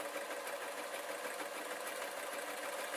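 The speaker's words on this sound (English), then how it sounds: "I'm going to sew the fold so that I've got a nice crisp edge there" A sewing machine stitching a fold in velvet fabric for a cloak, its fast needle rattle running steady and close without a break.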